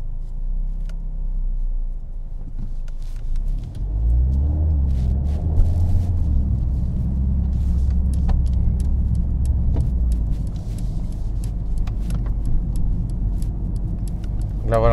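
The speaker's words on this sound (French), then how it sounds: "Vous entendez le moteur qui monte en régime." A 2020 Mercedes-AMG A45 S engine rumbles inside the cabin, its tone rising as the revs climb in sport mode, while a voice talks over it and keys jingle.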